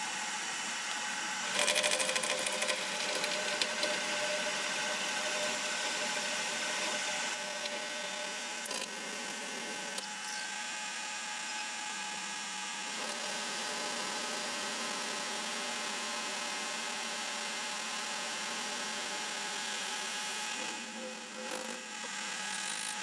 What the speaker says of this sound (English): Right, I'm set up on my milling machine.